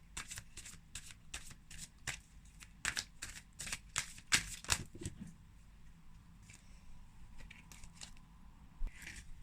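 Tarot cards being shuffled close up, a rapid run of crisp riffling snaps followed by softer, sparser shuffling, with no talking.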